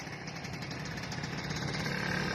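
LS 125 motorcycle engine while riding, a continuous mid-pitched buzzing drone with a slight throb, steady and fairly close, without talk.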